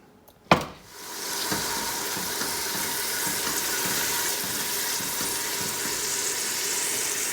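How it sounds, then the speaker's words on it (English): Water pours into a pot of onion for blending into a meatball sauce. A sharp knock comes first, then a steady, continuous splashing stream runs evenly to the end, close and moderately loud. "We're going to put a little bit of water in here"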